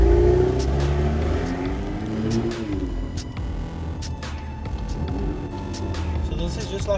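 A Volkswagen Golf 8R engine revs, a mid-pitched engine note that swells and falls with a few blips, moderately close, with voices murmuring over it at times.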